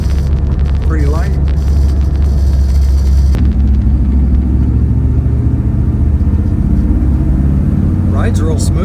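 A light car of about 2,600 pounds is driven with a steady, loud, close engine rumble and clatter throughout, with brief voices heard over it.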